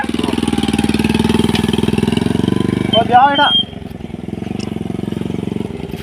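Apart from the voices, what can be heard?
motorbike engine starting and running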